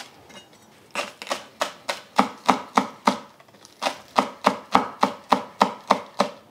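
A knife chops green onion stalks on a cutting board in two quick runs of crisp, evenly spaced thuds, about a dozen in all, close and clear with no talking.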